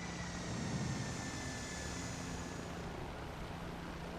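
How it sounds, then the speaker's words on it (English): An Osprey tiltrotor aircraft flies in Microsoft Flight Simulator 2020, giving off a steady, fairly quiet rotor-and-engine drone that holds throughout. "That Osprey is an interesting aircraft."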